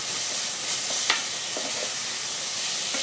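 Beef stir-fries in a pan until dry and fragrant, a continuous close sizzle and hiss broken by a few faint scrapes of stirring, with no talk.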